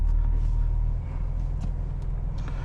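A 2021 Cadillac CT5 Premium Luxury with a 3.0L V6 engine downshifts while driving, heard from inside the cabin as a low, steady engine hum whose pitch and loudness drop slightly about a second in, with faint road noise and no talking.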